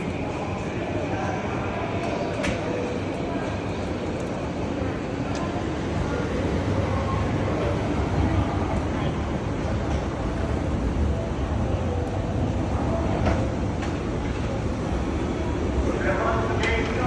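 Riding aboard a Yamanote Line train brings a steady, close rumble of the carriage in motion, with faint voices over it.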